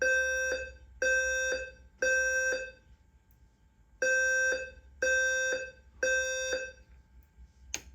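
Home fire alarm sounding during a system test: six loud, evenly spaced electronic tone bursts, each a rapid triple pulse, with a short gap mid-sequence, alone with no voices.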